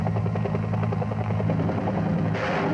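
Huey helicopter gunships in flight during an air operation, a steady loud rotor chop with a continuous engine roar, close and unbroken throughout, no voices.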